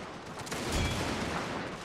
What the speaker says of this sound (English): Not really getting the amount of fire from the cannons that I want to see going in there.